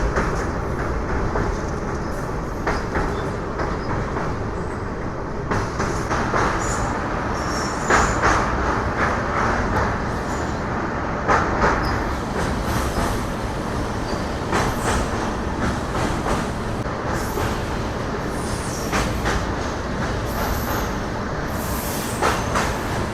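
Amrit Bharat Express on its inaugural run, rolling steadily with dense rumbling and repeated rail clatter and clicks throughout, loud and close with no talking.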